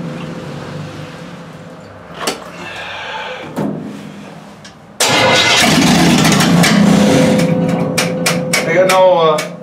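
Old engine on a cold day in Canada cranks and coughs without catching: brief sputters and pauses, then a long loud burst of rough churning with sharp pops near the end.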